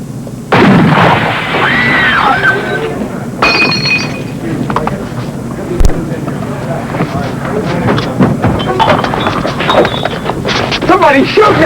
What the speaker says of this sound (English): Somebody shooting at us!